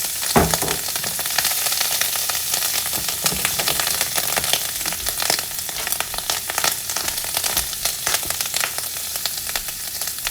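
Ahi tuna steaks searing in extra virgin olive oil in a hot pan, a steady loud sizzle and crackle of frying that holds throughout with no voices.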